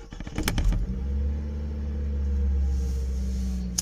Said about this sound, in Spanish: Una vez que enciendes el auto,